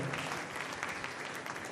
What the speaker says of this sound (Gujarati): ફરી એકવાર જોરદાર તાળીઓના નાદ સાથે વધાવીએ.